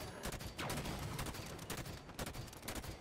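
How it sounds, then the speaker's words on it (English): Bursts of gunfire aimed at an enemy in Halo 5 on Legendary difficulty, quick volleys of shots spread across a busy, noisy firefight, fairly faint overall. "Because I'm shooting at him, and he can't shoot me."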